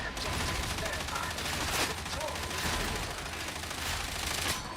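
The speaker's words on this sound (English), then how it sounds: "That's a lot of shotguns" Dense, continuous gunfire, with shotguns among it, crackles in a video game battle, loud and unbroken throughout, with voices faintly underneath.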